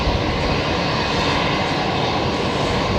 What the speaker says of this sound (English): Rex is just being cleared for an immediate takeoff now on runway 19 left